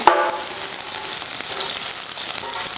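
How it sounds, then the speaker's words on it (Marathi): Ghee sizzles loudly and steadily as it melts in a hot kadhai, before carrots go in for halwa. A dense, even crackling hiss starts with a brief sharp sound and carries on without any talking. "तर कढई गरम झालेली आहे, तर आपण कढईत आहे ना तूप घालूया"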